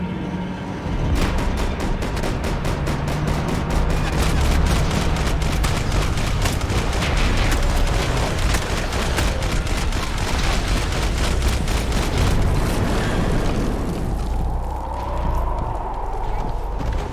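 Rapid, sustained gunfire in the video game Max Payne 3, dense repeated shots cracking for many seconds amid shouting voices, before easing off near the end.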